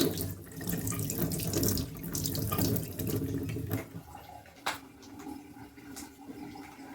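Kitchen tap water runs steadily into a sink while a pan is washed, a full splashing flow that eases into lighter trickles and drips with a few clanks near the end.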